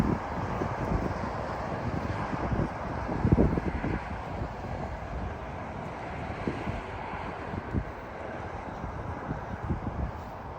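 Steady cold outdoor wind on a greenway rushing and buffeting a microphone, a constant broadband roar with occasional gusty thumps, no voices.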